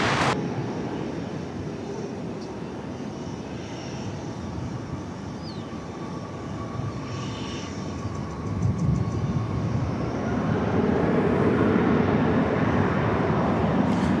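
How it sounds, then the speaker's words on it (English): A Japan Airlines Boeing 777 arriving from Tokyo Haneda at DFW Airport rumbles with a broad, steady jet roar that builds and grows louder toward the end. "That's Japan Airlines Flight 12, 777 from Haneda Airport in Tokyo."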